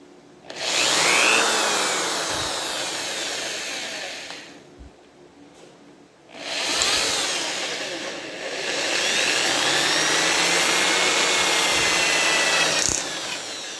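Electric drill boring a hole in a homemade antenna, running in two long loud whirring bursts separated by a brief quieter pause, close and steady.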